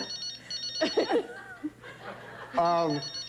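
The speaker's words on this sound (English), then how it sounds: "The phone is ringing." A telephone rings twice under conversation and chuckling in a comedy talk setting, the harmonic rings moderately loud and close amid the voices.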